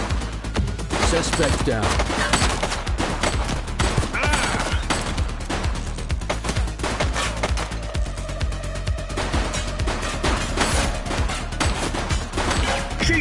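Rapid gunfire in the police video game The Precinct, dense volleys of sharp shots cracking close and loud throughout, with brief voices calling out between bursts.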